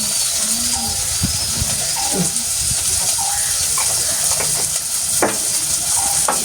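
Turmeric powder sautéing in a pan for a fish curry, a steady close sizzle of frying with occasional stirring scrapes and clicks throughout.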